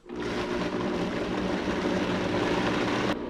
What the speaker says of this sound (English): Okay, blend this up till it's smooth.